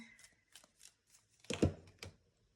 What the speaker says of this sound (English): Maybe shuffle again and see.